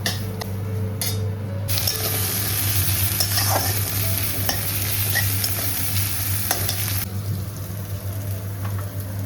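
Dal simmers in a pot on a stove, a steady close sizzle and bubble with faint stirring scrapes and occasional utensil clinks, running without pause.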